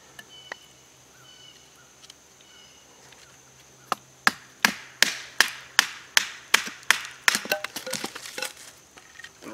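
A blade chops into wood with a run of sharp, evenly paced strikes, speeding up and softening toward the end after a few scattered knocks.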